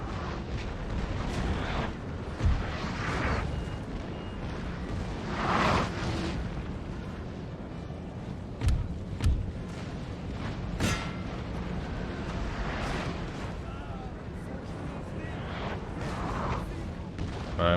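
Rolling artillery cannon fire across a Napoleon: Total War battlefield, with repeated distant booms and sharp reports scattered over a constant rumbling din of battle.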